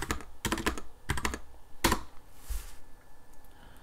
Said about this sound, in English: We just need to type in IP routing.